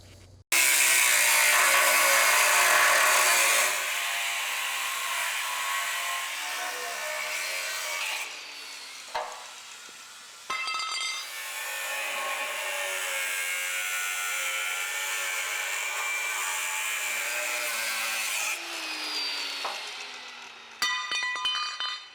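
A cutoff wheel slicing through car body metal on a classic Camaro build, a loud, steady high-pitched grinding whine held for long stretches, with brief pauses where the wheel lifts off and bites again.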